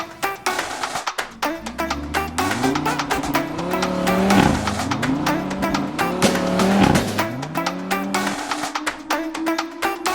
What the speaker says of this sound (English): on an Audi RS can only be done with launch control